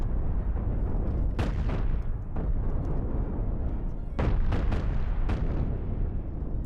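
Repeated cannon blasts from two six-cannon ships trading fire in the space game Cosmoteer: heavy booms in scattered clusters over a steady low rumble, with a dense volley of shots near the end.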